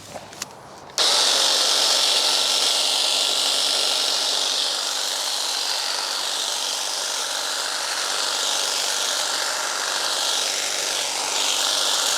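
After a brief quiet start with small knocks, a cordless lawn mower motor starts up and runs at a loud, steady whine while cutting grass for the rest of the clip.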